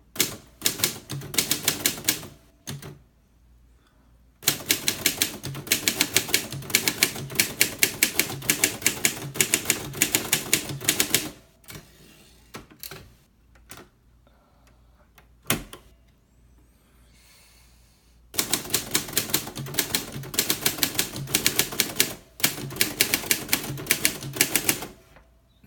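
Typing on a 1962 Triumph Perfekt manual typewriter, rapid loud clacking keystrokes in bursts broken by pauses and a carriage return, close up with no talking.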